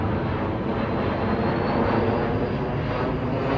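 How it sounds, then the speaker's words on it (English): A large airplane roars steadily overhead, a broad, dense rush of engine noise with no voices. "Plane spotting."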